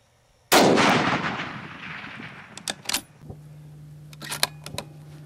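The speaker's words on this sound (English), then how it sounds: "That's a 400-yard shot." A single loud rifle shot from a Pride Fowler RR-800 fired at a 400-yard target, a sharp crack with a long rolling echo, followed by faint distant ticks and clicks near the shooting position.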